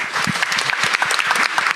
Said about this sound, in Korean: 우리의 희망 창업자들에게 뜨거운 박수 보내면서